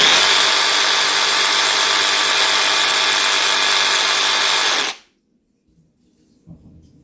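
A SKIL 12-volt reciprocating saw runs steadily and loud for about five seconds with a constant buzzing whine, then cuts off abruptly into near silence, leaving only faint handling noises.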